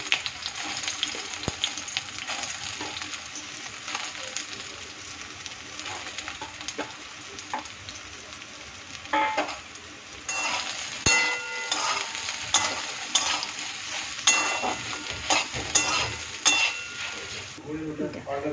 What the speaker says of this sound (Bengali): তেলের মধ্যে সয়াবিনগুলোকে প্রথমে ভেজে তুলে নেব